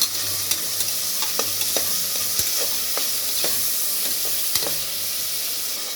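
Curry leaves sizzle in a hot pan of oil during the making of a vegetable and mutton kulambu, a steady bright frying hiss broken by repeated sharp scrapes and clicks of stirring, close and without speech.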